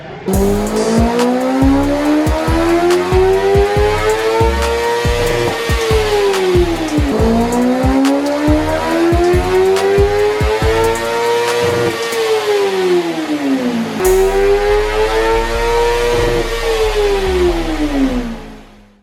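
A 2024 Kawasaki ZX-6R sport bike with a drilled-out catalytic converter and resonator revs hard on a dyno, its engine note climbing through three long sweeping pulls, loud and close, with no talk.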